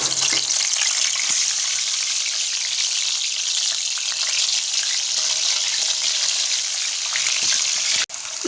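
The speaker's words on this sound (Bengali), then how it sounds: "এই গরম তেলের উপরে আমরা লবণ হলুদ মেখে রাখা আলুর টুকরোগুলো যোগ করে দেবো।" Salted, turmeric-coated potato pieces, about 300 grams, sizzle and crackle steadily in hot oil, a loud, continuous frying hiss with a brief clatter near the end.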